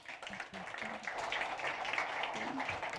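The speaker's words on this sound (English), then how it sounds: "please welcome with a roaring applause André Albergaria" Audience applause welcoming a speaker onto the stage at a startup pitch event, a steady wash of clapping with voices talking over it.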